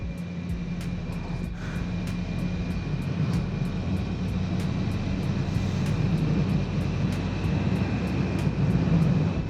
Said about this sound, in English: I like how the engine sounds